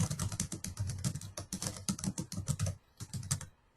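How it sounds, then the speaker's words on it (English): Fingers patter on a computer keyboard in an office, a quick, close run of irregular keystrokes with brief pauses and a short lull near the end. "I'm not doing that typing."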